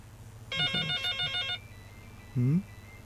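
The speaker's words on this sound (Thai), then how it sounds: "มีโทรศัพท์แทรกเข้ามา" A telephone rings during a livestreamed talk at a Buddhist temple in Chiang Mai, one warbling electronic burst of about a second, moderately close, followed by a brief spoken word.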